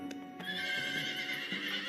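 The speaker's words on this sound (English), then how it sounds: "As tribute, Teth Adam sends 100 of the finest stallions on Earth." A herd of stallions neighs in an animated show, with whinnies rising over a busy, continuous patter of hooves clip-clopping close by, and no voices.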